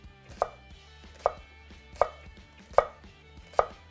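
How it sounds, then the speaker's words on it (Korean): A knife chops green onion on a cutting board in five evenly spaced, crisp knocks, close and clear over a quiet background. "파를 약간 손톱보다 좀 작은 크기로 손톱 반 크기 정도"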